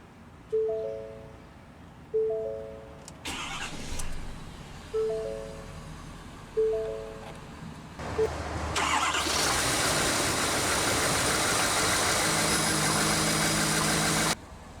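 A 2019 Ford F-350 Super Duty Lariat with the 6.7 Power Stroke diesel: a few chimes, then the starter cranks and the engine fires into a loud, steady, close idle.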